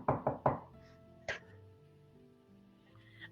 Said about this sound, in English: Okay, I will knock.